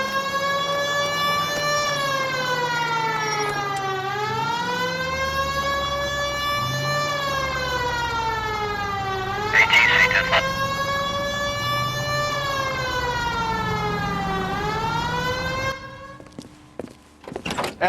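A police car siren in the video game L.A. Noire wails, rising and falling in long sweeping cycles, loud and continuous, with a brief clatter of thuds midway and rumbling engine noise beneath.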